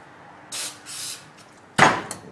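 Several short bursts of aerosol degreaser spray hissing, two brief puffs followed by a louder, sharper spray near the end, close by.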